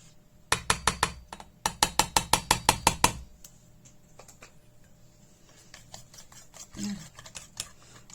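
A spatula mixes homemade cream-coloured paint in a container, making a quick run of sharp, evenly spaced clicks and taps, then sparser scattered knocks, up close with a soft voice near the end.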